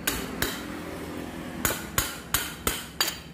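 Sharp metallic hammer strikes drive a seized piston out of a Honda Scoopy scooter engine block that ran out of oil, six or so loud, close blows at irregular intervals with no talking.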